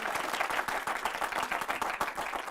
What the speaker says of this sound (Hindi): आपके बात पे इतनी जबरदस्त ताली बजी है